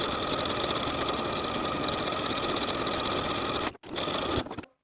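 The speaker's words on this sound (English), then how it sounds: "I'm going to edge stitch close to my finishing stitches all the way around" A sewing machine edge stitches around a sweater sleeve edge, a continuous close mechanical hum that breaks briefly near the end, resumes for a short burst, then stops.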